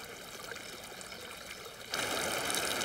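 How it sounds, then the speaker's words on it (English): Cartoon water washing over and past a dam, a steady rushing, splashing flow that swells noticeably louder partway through and keeps going without pause. "the water's washing over there"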